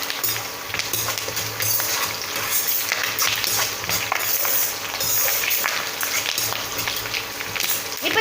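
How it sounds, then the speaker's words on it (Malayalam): Bitter gourd curry with curry leaves stirred in a pan, continuous sizzling and frying with scraping, clattering stirs throughout, fairly loud and close. "ഇനി ഇത് നന്നായിട്ട് ഇളക്കി കൊടുക്കാം."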